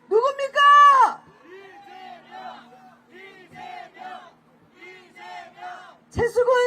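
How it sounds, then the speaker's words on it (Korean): Crowd cheering and shouting at an outdoor Korean election campaign rally near Chungnam National University, with a loud burst of cheers, scattered shouts between announcer speech, and another loud surge of cheering at the end. "박찬대 원내대표께 다시 한번 박수 부탁드리겠습니다"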